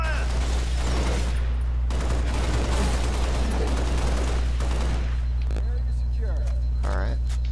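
Halo Reach firefight: sustained automatic weapon fire rattles over a loud steady rumble, with voices shouting through the shooting and bursts tapering toward the end.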